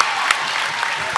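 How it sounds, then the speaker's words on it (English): Clapping by a commentator at a high school boys' basketball game, a quick burst of close hand claps over a steady gym crowd roar. "If you heard me clapping, it's awful fun."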